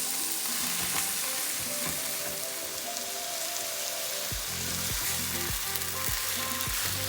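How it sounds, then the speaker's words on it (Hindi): A pound of minced mutton fries in a softened base in a pan, loud continuous sizzling with several low thumps and scrapes of a spoon stirring toward the end, close up and without talk. "बस आपको मिन्स को उसी वक्त तक फ्राई करना है जब तक इसका कलर चेंज ना हो जाए"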